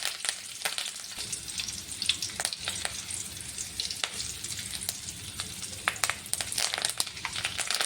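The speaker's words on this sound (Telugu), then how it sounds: "తర్వాత అదే ఆయిల్లో రెండు కరివేపాకు ముక్కలు వేసి వేయించుకోవాలి" Curry leaves sputter and sizzle in hot oil while making a crunchy savoury snack mixture, with a dense, steady crackle and sharp popping bursts throughout and no voices.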